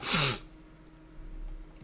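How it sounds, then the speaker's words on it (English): A single short sneeze bursts out at the start, followed by quiet room noise and soft breathing. "Oh, I did sneeze."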